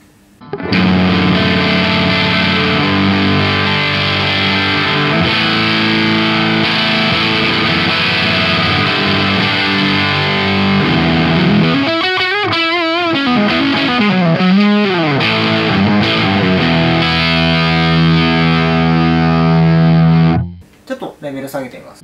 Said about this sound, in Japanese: 歪み全開してますね。